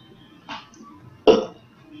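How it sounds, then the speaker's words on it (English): Two short, low guttural bursts, a faint one followed by a louder, deeper one, like a burp, in an otherwise quiet setting. "So here is my daily video burp."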